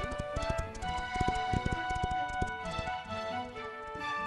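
Horse hooves clip-clop rapidly and steadily up close as bandits steal horses in a Chinese historical fantasy drama, a dense rhythmic patter over a sustained musical tone, with no clear talking.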